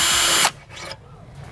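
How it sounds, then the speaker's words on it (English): A small power drill whirs loudly for about half a second, boring a tiny hole beside the battery ground point of a Toyota Tundra, then stops abruptly with faint handling noise after. "we're going to drill a very small hole right beside where the ground area is beside the battery"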